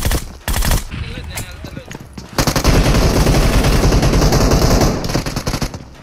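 Rapid bursts of gunfire from a shotgun in a battle-royale style shooter game, loud and dense, with a short volley early and a sustained barrage through most of the stretch, with voices talking over it.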